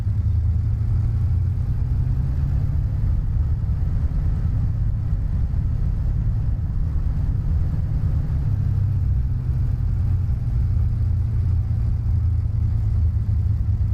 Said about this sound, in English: Lovely sound effects here. Flying Iron really did their work very well with the Spitfire.